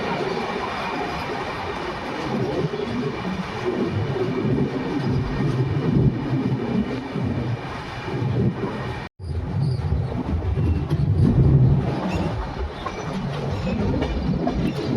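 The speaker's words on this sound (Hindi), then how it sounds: "जिसके प्लेटफॉर्म नंबर 2 की तरफ बढ़ रही है हमारी ट्रेन" The 18574 Bhagat Ki Kothi–Visakhapatnam Express rolls into platform 2 at Baran railway station with a steady loud rumble and wheel rattle from on board, broken by a brief dropout midway.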